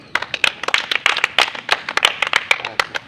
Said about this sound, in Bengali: তানভীর পুরস্কার গ্রহণ করছে সবাই হাততালি